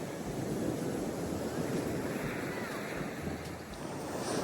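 Ocean waves on a beach by the sea make a steady, broad roar of surf mixed with wind buffeting the microphone. The wash is continuous and moderately loud, with no distinct breaks between waves.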